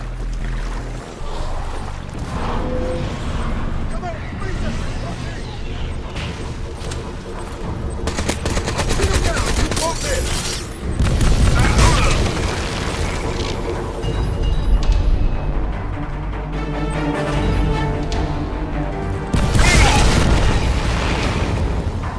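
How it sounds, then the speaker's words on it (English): Alien X-Pack mortar of Ceph technology firing in Crysis 3, a series of loud booming blasts and rumbling impacts repeating over a dense, noisy battle din, with heavier bursts recurring throughout. "Yep, that X-Pack mortar because it's Ceph technology."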